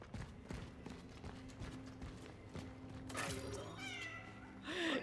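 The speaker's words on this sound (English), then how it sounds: "Oh, I hear that cat." A cat meows in the video game Cronos: The New Dawn, a few faint meows with clicks and footsteps, and one louder, closer meow near the end.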